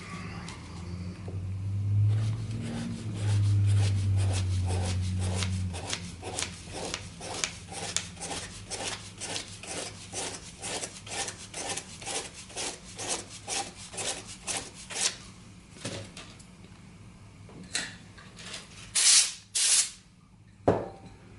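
Sandpaper is rubbed by hand over a high-grade replacement pipe stem in steady, rhythmic back-and-forth strokes, close and scratchy, about two per second, slowing into a few sharper swipes near the end.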